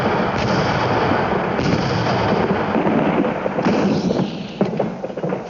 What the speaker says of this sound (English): during the First World War that artillery revealed its newfound power